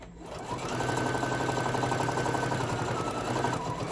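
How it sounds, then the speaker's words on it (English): A sewing machine runs steadily at close range for several seconds, stitching fabric for a craft-fair tote bag, with a quick start and an even, continuous whir throughout. "I need to go one more stitch so I can pivot and it will be just even still at the bottom"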